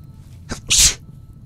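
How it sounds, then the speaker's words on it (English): A single loud sneeze up close, a short sharp intake followed by a hissing burst, then quiet. "that sneeze comes through the recording"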